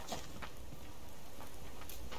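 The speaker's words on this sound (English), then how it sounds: "It's starting to stop raining, that's good." Steady rain in the video game Subsistence patters continuously, a dense even hiss with occasional louder drops.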